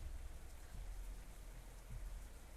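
Rain falls steadily in a dense, even patter with a low rumbling undertone, a continuous wash of drops that never lets up.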